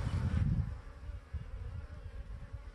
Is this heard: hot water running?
no